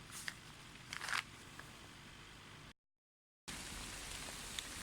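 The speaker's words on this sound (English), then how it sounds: "So I'm going to be planting this little onion right here in the garden while it's raining." Rain falling on a garden bed where an onion is being planted: a steady soft patter with a few louder drops near the start, broken by a short stretch of complete silence.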